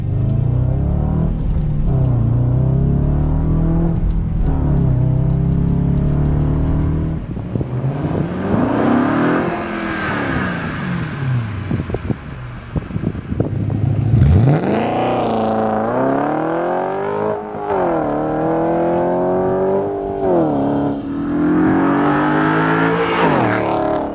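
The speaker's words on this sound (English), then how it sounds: "The sound of the naturally aspirated V8" An Audi RS4 B7 with a naturally aspirated V8 revs repeatedly, its engine note climbing and falling in loud, close sweeps with a sharp burst midway, no talk over it.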